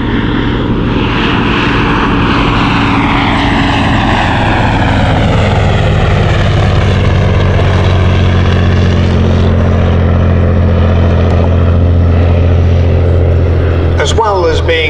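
Bristol F2b biplane fighter flying past at the Shuttleworth air show, its loud steady engine drone sweeping downward in pitch as it passes and recedes, with a voice talking over it.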